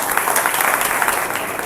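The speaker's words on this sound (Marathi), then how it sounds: "त्यांच्यासाठी टाळ्या वाजवा." An audience at a spiritual musical discourse breaks into sustained applause, dense, steady and fairly loud clapping that fills the whole moment without pause.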